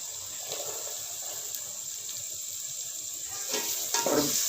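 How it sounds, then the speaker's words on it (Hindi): Boiled chickpeas fry in a spice masala for chickpea pulao, giving a soft steady sizzle close by with light stirring scrapes that grow a little louder toward the end. "चनों को अच्छी तरह अपने मसाले में भून लेना है।"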